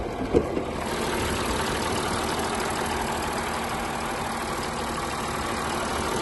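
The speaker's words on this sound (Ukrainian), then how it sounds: "двигун по звуку працює чудово, болти у нас ніде не кручені, 3 літра дизель" A 3.0-litre diesel engine in a 2015 Audi A6 C7 idles with a steady, low, rough rumble that holds even throughout, after a brief knock at the start.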